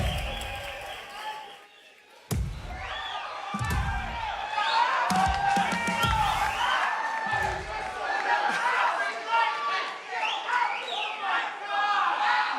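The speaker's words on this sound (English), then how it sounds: "I appreciate the applause" A crowd at a gaming awards show erupts after a quiet moment and a few sharp thumps, swelling into loud, sustained cheering, whooping and clapping that carries on with shouting voices mixed in.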